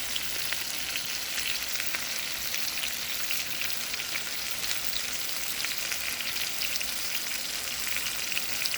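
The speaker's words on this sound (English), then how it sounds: "you want to just go ahead and baste it, you know, about a minute on each side with the butter and garlic" Steak frying in a pan while being basted with butter and garlic, a steady, close, dense sizzle that holds evenly throughout with no voices.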